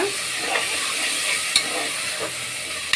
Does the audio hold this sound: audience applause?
no